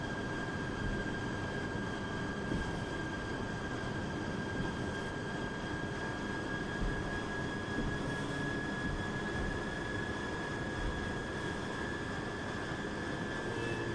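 Airplane engine in a flight simulator game, heard as a steady, even drone with a constant high whine over broadband rumble, unchanging for the whole stretch, with no talking.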